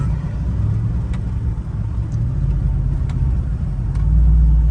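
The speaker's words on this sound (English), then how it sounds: "y'all see we do got the downshift, though" A Dodge Ram pickup truck rumbles steadily from inside the cab as it downshifts on the road, with a low engine drone that swells slightly louder near the end.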